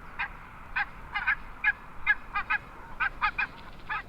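Repeated short honks from barnacle geese in Iceland, a dozen or so calls in an irregular rhythm, some paired, moderately close against a quiet background.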